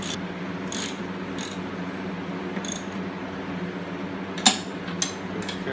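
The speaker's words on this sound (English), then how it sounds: "Tighten up these two. It's a 1/2 inch wrench. Tighten up these 2 bolts." Ratchet wrench tightening bolts on the deck pulley of a John Deere 111 mower, short bursts of rapid clicking spaced apart, close and clear, with a sharper metallic clunk near the end.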